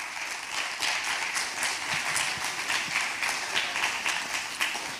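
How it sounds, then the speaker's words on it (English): Audience clapping for the judges at a primary school elocution competition final, a moderate, steady patter of many hands at middling volume, fairly uniform throughout with no voices over it. "A round of applause, please, for our judges."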